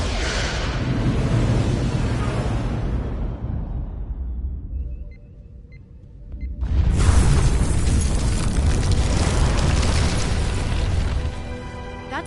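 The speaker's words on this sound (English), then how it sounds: "Fire on the Pawtucket!" Starship weapons fire on the Pawtucket in the Star Trek Resurgence video game: loud, heavy blasts and booming rumbles, a brief drop to a quieter hum midway, then another sustained roaring barrage.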